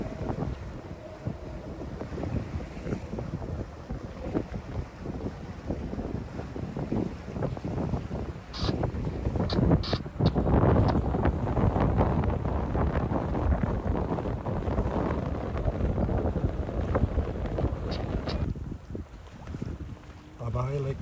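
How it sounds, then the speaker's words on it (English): Wind gusts across Lake Michigan while sailing solo toward Harbor Island, buffeting the microphone with a steady roar that swells and eases, mixed with water and boat noise and faint, indistinct voice. "The wind over here picked up too."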